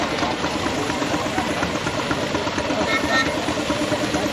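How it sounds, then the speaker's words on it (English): A 6-inch Foster steam traction engine running at a steam fair, a steady low chugging rumble with a continuous mechanical hum, heard alongside outdoor crowd noise and a voice speaking nearby. "B40 is a 6-inch Foster traction engine"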